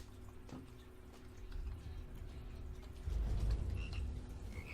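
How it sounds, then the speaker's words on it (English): Frog croaks from the video game Immortal Redneck, a low throaty croaking layered over watery, dripping game ambience that swells louder toward the end, with no talking over it. "Oh, it's the frogs."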